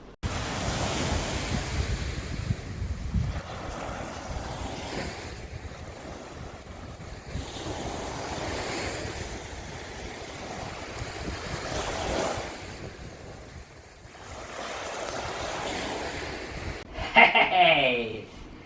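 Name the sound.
sea waves and wind at the seaside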